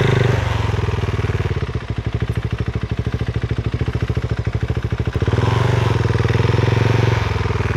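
A motorcycle engine idles nearby with a rapid, throbbing putter that briefly settles into a steady pulsing chug before resuming its rougher idle.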